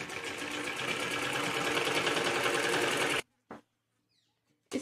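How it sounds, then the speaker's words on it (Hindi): Sewing machine stitching a decorative back neck design on a garment, a steady loud run of rapid stitches for about three seconds, then stopping, followed by a couple of short bursts of stitching in the quiet. "इसी तरीके से ये पूरे नेक के ऊपर सिलाई लगाएंगे।"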